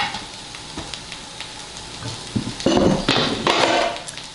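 Vegetables for a chicken stir fry thrown into a hot skillet, with scattered clicks and taps giving way to a loud, bursting sizzle that swells and holds for the last couple of seconds.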